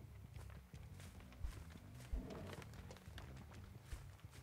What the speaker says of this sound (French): Je crois que j'ai entendu des bruits de pas.